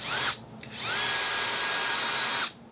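The small electric motor of a Procraft PKA 44 cordless mini saw whines at a steady high pitch in two bursts, close and alone, with a short pause between runs.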